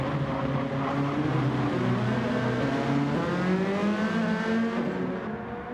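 Race cars in the Gran Turismo 7 video game roar steadily and loudly through the whole stretch, several engine notes overlapping with rising and falling pitch as the pack crosses the start-finish line.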